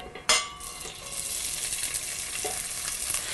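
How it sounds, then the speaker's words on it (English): Onions sautéing in olive oil in a pan for mango mojo shrimp, opening with a sharp burst of sizzle as they hit the hot oil, then a steady close frying hiss with a light stir or two. "Here we're going to start off with a little bit of olive oil into the pan and with the onions."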